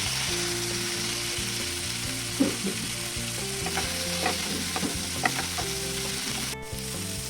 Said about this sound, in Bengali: এবার পেঁয়াজটা একটু নেড়ে চেড়ে ভাজা ভাজা হয়ে গেলে এইবার দিয়ে দেবো